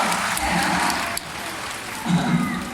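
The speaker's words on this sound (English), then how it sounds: "You need to applause and then you move on" Audience applause at a sea lion presentation, a broad rain-like patter of clapping filling the clip with a brief dip midway, and a voice briefly heard under it.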